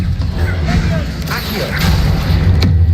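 An Incendio fire spell is cast in Hogwarts Legacy, giving a whooshing burst and low booming thumps over steady background game ambience.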